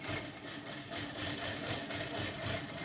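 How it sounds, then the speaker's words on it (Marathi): A sewing machine stitches homemade socks, giving a faint, fast, even rhythmic whir with a steady mechanical pulse and no voices. "अशा पद्धतीने खालीपर्यंत शिवून घ्या।"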